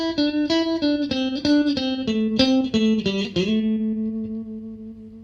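Electric guitar with effects playing a blues lick, a run of quick picked notes with slides, bends and hammer-ons, ending on a sustained ringing note; close and clear with no talk.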